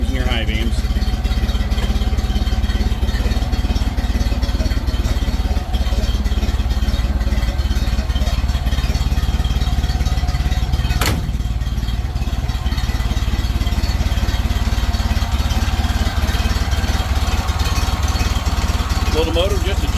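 1931 Ford Model A engine chugging along, a steady close low rumble with mechanical clatter throughout, a brief sharp click midway.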